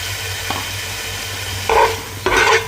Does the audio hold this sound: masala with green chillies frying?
yes